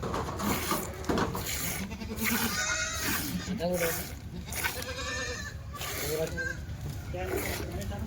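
Kathiawadi dairy goats bleat several times at close range, the calls scattered over steady background noise.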